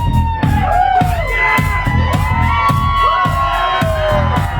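Concert audience at a live music show at The Blue Lagoon cheering and shouting, a loud, dense and continuous roar of voices with whoops rising over it, with a harmonic tone from the stage running underneath.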